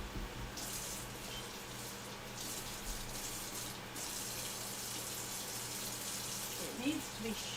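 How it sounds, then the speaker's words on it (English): Water runs from a kitchen tap in a steady, even hiss that lasts the whole stretch while a knife is washed. A faint clink comes near the end. "So if I'm going to do that, wash my knife first"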